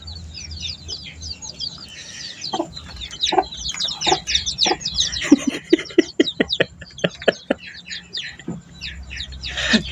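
Young chicks cluck and peep busily while pecking at homemade feed, a steady run of close, sharp chirps and clucks that grows denser midway, with no talking over them.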